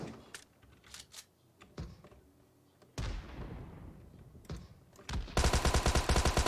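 Video game gunfire comes in scattered bursts with rapid clicking, then a dense fast automatic burst at the end, moderately loud over quiet game ambience.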